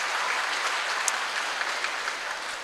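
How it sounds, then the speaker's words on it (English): Applause at an international Islamic economics conference after the first presentation, a steady wash of clapping from the audience at moderate volume with a few brighter claps standing out. "applause to our first presentation"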